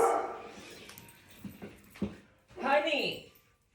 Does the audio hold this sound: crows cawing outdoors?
no